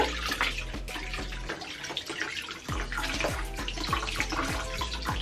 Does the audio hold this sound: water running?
yes